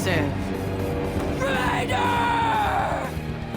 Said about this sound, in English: Civ, the antagonist of this level, screams into the empty space